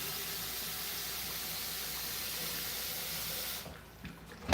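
Hot water runs steadily from a tap as a sink fills during home cooking, with a continuous broadband rush for about three and a half seconds before it cuts off, followed by faint clatter.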